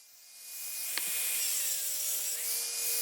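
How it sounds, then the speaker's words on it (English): An angle grinder cutting pins off a Woodland Mills sawmill gives a steady, high-pitched metallic whine with a couple of brief clinks early on, fairly close and alone. "just showing you a total of 6 pins that I use the grinder to get rid of"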